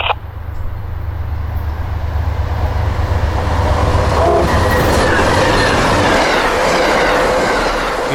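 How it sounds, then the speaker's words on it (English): An Amtrak passenger train passes close by, heading the opposite way, its loud steady rumble of wheels and clickety-clack on the rails filling the whole stretch with a faint squeal near the middle. "the passenger train is going in the opposite direction"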